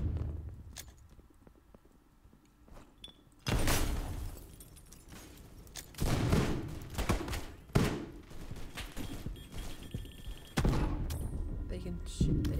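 Gunfire in the Roblox game Bomb Line, loud bursts of shots arriving in clusters across a noisy stretch with voices talking over parts of it.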